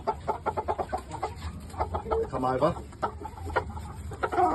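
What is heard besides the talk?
blue red shamo game chickens clucking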